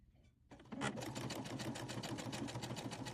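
A sewing machine running a decorative stitch on fabric for an Easter egg shape, starting after a brief quiet moment, then a fast steady mechanical clatter, close and continuous.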